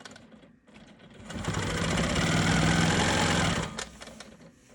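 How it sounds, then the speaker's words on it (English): Sewing machine stitching diagonal quilting lines across an economy quilt block, a steady fast mechanical whir that runs loud and continuous for about two and a half seconds, with quieter handling noise before and after. "I'm going to go ahead and quilt my diagonal lines here"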